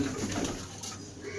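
Soft, low cooing of teddy pigeons close by, a few murmuring notes in quick succession over faint background noise.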